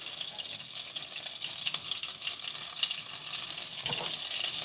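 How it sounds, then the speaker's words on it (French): Butter melts and fries in a pan before beef is added, giving a steady close hiss with a few soft pops and crackles and no voices. "On laisse bien fondre le beurre."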